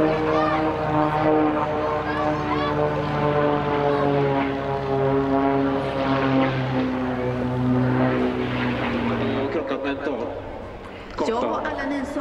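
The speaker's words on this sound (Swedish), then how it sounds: "Extra 260 härnäst. Ett flygplan konstruerat för konstflygtävlingar." Extra 260 aerobatic propeller plane, built for aerobatics competitions, flying at an airshow in Jönköping, a loud droning engine note that shifts in pitch as it passes, heard under continuous announcer talk.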